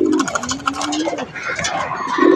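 Pigeons in a loft give low cooing calls close by, mixed with sharper higher chirps and scuffling, fairly loud throughout a short stretch.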